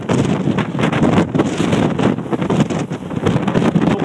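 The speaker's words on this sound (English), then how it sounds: "the wind's helping the float down" Strong wind buffeting the microphone on the summit of Mt Washington, loud and continuous with gusty rumbling throughout.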